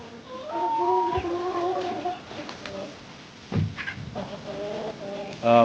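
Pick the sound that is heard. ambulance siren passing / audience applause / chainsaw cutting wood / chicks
chicks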